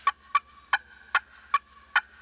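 Slate turkey call worked in short cutting strokes to imitate a hen turkey: six sharp, clear yelping clucks in an uneven rhythm, close and alone.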